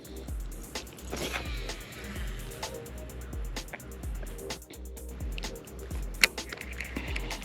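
A Lew's Custom Gen 3 baitcasting reel with Paramag braking is thrown sidearm, its spool giving a soft whirring buzz with faint clicks and handling knocks over outdoor background rumble.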